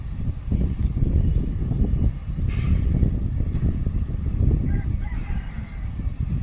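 A hen on a farm near Rajkot clucks and cackles in low, rough bursts over continuous rustling farmyard noise, fairly close and without talk.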